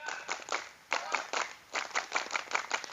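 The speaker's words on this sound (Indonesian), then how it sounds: "Saya ingin tahu tepuk tangan daripada pramuka." An audience claps in a Scout-style rhythmic pattern, with quick irregular bursts of hand claps in rapid patterned groups, close and fairly loud, with some voices mixed in.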